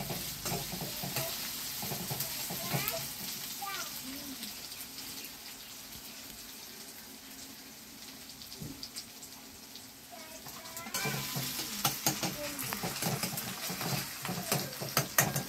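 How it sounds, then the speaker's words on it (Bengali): Food frying in a pan is stirred while cooking idli sambar, a soft continuous sizzle broken by scraping stir strokes, with a quieter stretch in the middle before louder stirring and clatter return. "এটা কিছুক্ষণ হয়তো নাড়তে হবে।"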